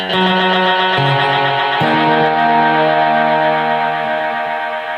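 Electric guitar notes run through a Strymon BigSky pedal's Magneto reverb, sustained and smeared into long echoing tails, with a few pitch changes over a continuous, loud wash.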